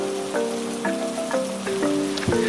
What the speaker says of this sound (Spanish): llovió muy fuerte justo en el momento que tuvimos que arrancar la caminata